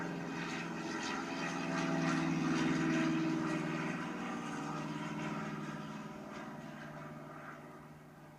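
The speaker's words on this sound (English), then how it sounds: "here's the sound of the prop engine" Steady droning hum of a propeller airplane engine, a continuous buzzing roll that swells toward the middle and gradually fades as it recedes, with no voices.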